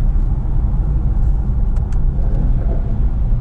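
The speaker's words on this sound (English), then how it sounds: "the sound of this car is just to die for." Interior rumble of a Mercedes E63S 4-Matic+ V8 engine cruising along a road, a loud, steady low drone with no talk.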